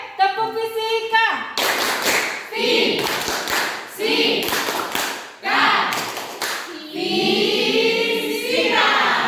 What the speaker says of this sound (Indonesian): Oke, kita mulai tepuk fisika kita.